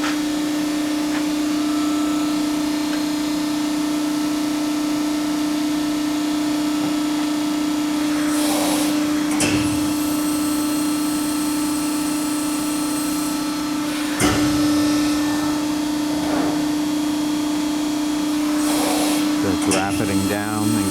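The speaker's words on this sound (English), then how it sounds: "It's rapiding down and goes into the pressing. Rapid return." A 240-ton Fab-Line Baykal CNC hydraulic press brake hums steadily as its hydraulic pump runs. Several louder bursts of hydraulic noise mark the ram rapiding down, pressing and rapidly returning, and someone talks throughout.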